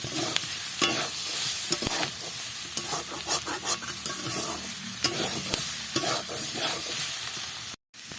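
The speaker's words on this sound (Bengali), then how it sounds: "এখন আমি দিয়ে দেবো ভেজে রাখা পটলের রাঁধগুলো আলুগুলো ভালো করে কষিয়ে নেবো একসাথে" Fried pointed gourd pieces and potatoes stir-fried together in a pan, a steady loud sizzle broken by repeated scraping and clattering strokes of a spatula, with no talking.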